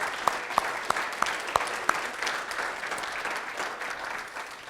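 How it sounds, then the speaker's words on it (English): Warm applause from an audience at a Holocaust memorial service, a broad continuous wash of clapping with a few sharper nearby claps standing out early, gradually easing off. "So I want to give them all a round of applause for coming."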